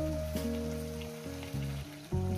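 Ridge gourd and potato fry in a pan with a steady close sizzle, heard beneath soft background music with no talking.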